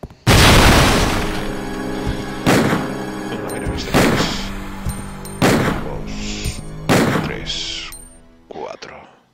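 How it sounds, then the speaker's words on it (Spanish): Magnum revolver shots fired in the PlayStation game Resident Evil 2: four loud booming blasts spaced roughly two seconds apart, each with a ringing decay, followed by a short quieter game effect at the end. "Cuatro tiros de Magnum, ¿vale?"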